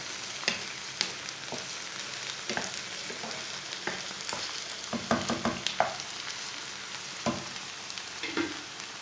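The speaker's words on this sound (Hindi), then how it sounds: "तीन मिनट तक मैंने प्याज और भिंडी को भून लिया" Onion and okra (bhindi) frying in a pan, with a steady sizzle and repeated scraping stirs. The stirs land irregularly and grow busier toward the middle, all close and moderately loud, with no talking.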